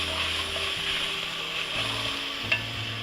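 Mirepoix of celery, carrots and onions sizzles steadily in a hot pan while being stirred, a continuous bright frying hiss with a low hum beneath and a single sharp scrape of the spoon near the end.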